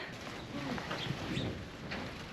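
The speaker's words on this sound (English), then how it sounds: "Look at all the birds in here." Soft, low cooing of pigeons or doves in a barn repeats several times over a steady background hum, fairly close and gentle.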